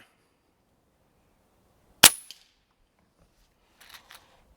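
A Brocock Sniper XR Magnum air rifle fitted with a 0dB moderator fires one sharp, close crack that dies away quickly, followed after a pause by a few faint metallic ticks.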